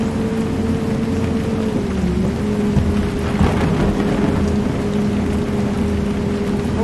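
Steady heavy rain with rumbling thunder fills the game world of Bus Simulator on a double-decker bus drive, a constant wash of downpour with a steady engine drone running beneath it.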